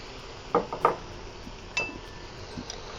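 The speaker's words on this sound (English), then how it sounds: "now I'm going to throw in my peas" Split peas tossed into a pot with bacon strips give a couple of short, sharp clattering bursts, followed by a few fainter clinks and scrapes against the pot in a quiet kitchen.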